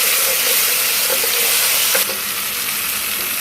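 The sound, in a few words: chili paste frying over onions in a pan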